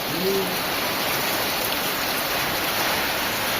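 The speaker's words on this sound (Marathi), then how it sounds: "गाईज खतरनाक पाऊस सुरू आहे" Steady heavy rain hisses loudly and continuously, with a brief low hooting tone near the start.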